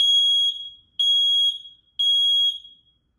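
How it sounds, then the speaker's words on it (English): Nest Protect Gen 1 smoke alarm sounding its test siren: three loud, shrill electronic beeps in an even rhythm, each about half a second long and spaced a second apart, close by with no talking. "we have the Nest Protect Gen 1, which we're gonna test right now."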